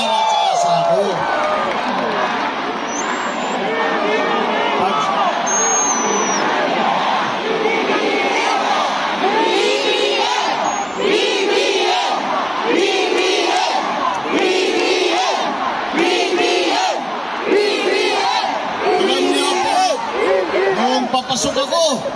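A large political rally crowd in General Trias, Cavite cheers and shouts continuously, a dense roaring mass of voices with rising whoops and screams, loud and sustained throughout.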